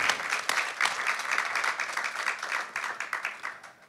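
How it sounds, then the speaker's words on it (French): Audience applause at a French panel discussion, a brisk wave of clapping from a modest crowd that swells, holds steady, then thins toward the end. "Merci beaucoup de l'applaudir"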